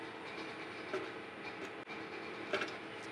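Monarch metal lathe taking a heavy 300-thou-deep cut, with a steady mechanical whir and grinding hum punctuated by a few brief clicks and clatters, no voices.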